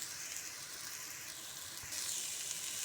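Masala spice powders, pepper powder among them, frying in a pan for egg pepper masala give a steady, close hiss of sizzling oil that brightens and grows slightly louder near the end, with no voices.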